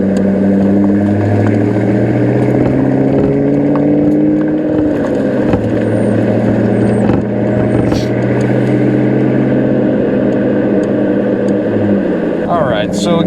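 A 2003 Ford Mustang SVT Cobra with under 10,000 original miles drives along, its engine a steady low drone with shifting harmonic tones and a brief change in pitch partway through, while a person talks over it.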